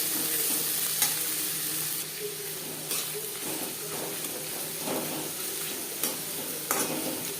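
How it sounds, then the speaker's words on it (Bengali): Chopped onions and half a head of garlic cloves fry lightly in a pan for chicken bhuna, a steady close sizzle running throughout with scraping stir strokes and occasional spatula clicks, no voices. "পেঁয়াজ আমি খুব লালচে করে ভাজবো না, হালকা করে ভেজে নেব"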